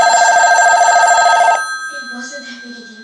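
Vintage rotary telephone bell rings loud and close in a steady rapid trill for about a second and a half, then stops, followed by faint room sounds.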